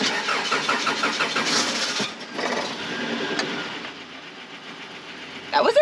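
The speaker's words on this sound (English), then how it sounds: "It's been a while since the engine's been turned over," An engine cranks with a rhythmic grinding churn for a couple of seconds, then catches and settles into a rough idle.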